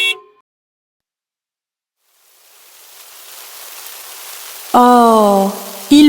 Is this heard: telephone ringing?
no